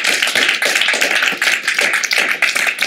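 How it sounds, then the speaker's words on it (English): Audience at a debating society clapping loudly and close by, a dense run of sharp, quick hand claps that swells and dips slightly but keeps going throughout, with no talking over it. "Can we give a big round of applause for everyone who's doing it?"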